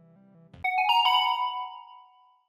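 A phone ringtone chimes after a soft low hum, a bright bell-like tone with several struck notes that ring out and fade over about two seconds, the call left unanswered.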